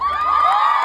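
An audience at a performance in Madrid, Spain lets out a brief, loud burst of cheering and high-pitched whooping.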